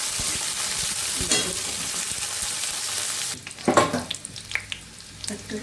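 Chopped onion and green chillies sizzle loudly in hot oil in a pan, a steady frying hiss that drops off midway, followed by softer stirring scrapes and bursts of sizzle.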